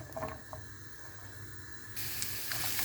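Steady hiss and crackle of onion frying in hot oil in a pan, growing louder and brighter partway through, with a few faint clicks and no talking.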